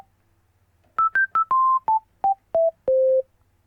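A synth patch played on a MIDI keyboard: eight short pure-toned notes in a descending stepwise line, the last one held a little longer, clear and alone with no talking.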